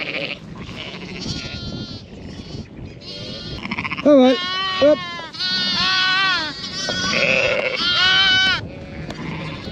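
Sheep and young lambs bleat repeatedly while being moved between fields on a farm, several overlapping cries near and far, with a man calling to them briefly amid outdoor noise.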